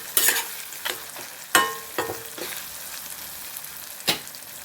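Ingredients for sundakkaya pulusu frying in a pan, a low steady sizzle broken by several sharp spatula scrapes and stirring knocks at irregular intervals, close up with no voices.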